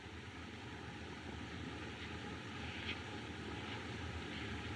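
A propeller airplane engine drones steadily in an old film soundtrack, a constant, moderately loud hum with hiss, heard alone without talk.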